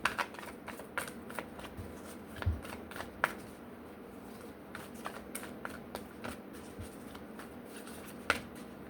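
Tarot cards being shuffled over and over in quick riffling bursts with sharp snaps between them, close and fairly quiet, with no voices.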